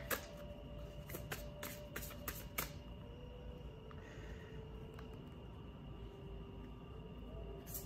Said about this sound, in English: I just want to keep shuffling.